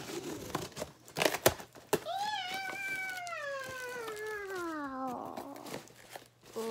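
A cat gives one long, drawn-out meow that slides downward in pitch, heard close by after a burst of crinkling and rustling packaging from an unboxing of book-themed goods.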